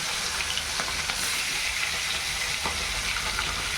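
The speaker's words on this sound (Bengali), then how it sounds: "মাছ ভাজা চাপিয়ে দিয়েছি" Fish, with head and tail pieces, crackles and sizzles in hot oil, a dense, steady hiss with occasional sharp pops, close by.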